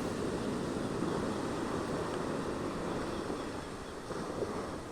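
Steady wind buffeting the microphone over a broad wash of surf at Cikembang Beach, West Java, Indonesia, with waves rolling continuously and no voices.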